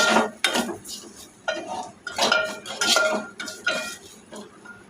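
A spoon mixes turmeric, garam masala and other spices in a pan for a potato and egg dish, giving repeated close metallic clinks and scrapes in an uneven rhythm.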